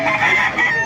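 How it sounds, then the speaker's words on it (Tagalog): A gamefowl rooster crows once in a short, loud, close call with a wavering harmonic tone, among many chickens kept in Baliwag. "Yan mga master, napakaraming manok na dito sa Baliwag."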